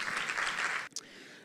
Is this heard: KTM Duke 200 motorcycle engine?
no